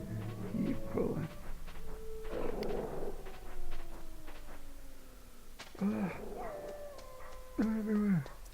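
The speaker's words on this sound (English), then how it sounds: "And now the wolves are after me." Wolves in the Metal Gear Solid video game bark, yip and whimper in several short bursts, with long howl-like tones sliding between them, fairly close and clear.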